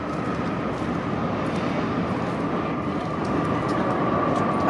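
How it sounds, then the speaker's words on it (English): Japan Airlines Boeing 787 Dreamliner landing at LAX, heard as a steady, moderately loud jet roar with a faint whine that swells slightly toward the end. "Up next is Japan Airlines Dreamliner."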